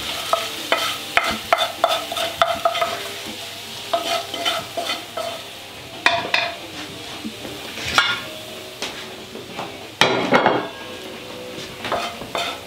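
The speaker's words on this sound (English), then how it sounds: "the trick is to stir it slowly and off the heat for a while" Milk being stirred slowly in a pan off the heat for breakfast, with a utensil repeatedly clinking and scraping against the pan in an uneven rhythm, close and fairly loud.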